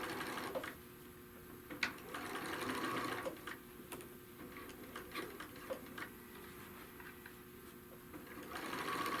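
A sewing machine stitches around the edge of a fabric bag with a 1/4 inch seam, a quiet, close, continuous rapid ticking whir that briefly slows and resumes, with no speech.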